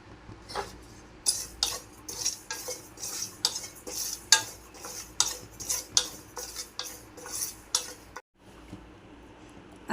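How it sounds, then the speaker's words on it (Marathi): Carom seeds (ajwain) being dry-roasted and stirred in a pan as part of a spice masala, heard as a steady series of scraping, clinking strokes with a brief pause near the end, no voices. "आता हा आहे ओवा पण भाजून घ्यायचा."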